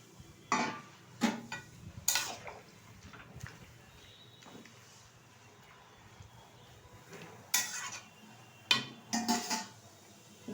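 Pumpkin greens cooked with jackfruit seeds are stirred in a metal pot, giving scattered clinks and scrapes of a utensil against the pot in short bursts, with quieter gaps between them.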